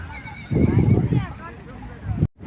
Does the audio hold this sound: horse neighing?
yes